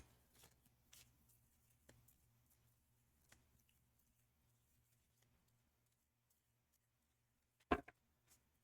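Quiet soft patter of tarot cards being shuffled, a few faint riffles spread out, ending in one sharp louder snap near the end.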